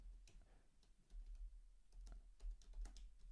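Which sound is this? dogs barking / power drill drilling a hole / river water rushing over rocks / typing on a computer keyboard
typing on a computer keyboard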